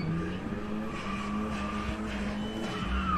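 A car in a gymkhana test locking its tires, a rough skidding squeal over a steady engine drone, moderately loud and continuous for a few seconds.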